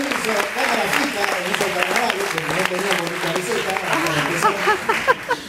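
Applause from an audience at a screening of a documentary about Argentine comparsa La Unión, steady clapping with voices and music-like tones mixed in, rising in spots near the end.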